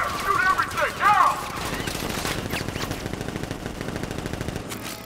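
Gunfire in Batman Arkham Knight: dense, continuous automatic bursts rattling for several seconds, loud and mixed with game sounds and a voice near the start.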